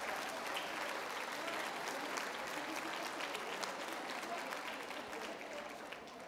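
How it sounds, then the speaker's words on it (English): Attendees at an opening presentation applaud members of a bilingual parent advisory committee: a continuous, even patter of many hands clapping from a sizable crowd, moderately distant, easing slightly toward the end. "Let's give them a round of applause."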